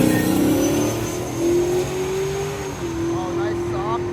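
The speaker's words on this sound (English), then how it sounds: "We got another Camaro coming up to make their pass." A Chevrolet Camaro drag racing car makes a pass at the strip, its engine a steady, fairly loud drone rising slightly in pitch, with a voice talking briefly near the end.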